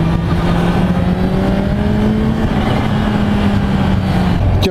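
2016 Kawasaki H2 supercharged motorcycle engine roaring loud and close, a sustained heavy drone with a slowly shifting pitch that rises and then settles, heard alone until an abrupt cutoff.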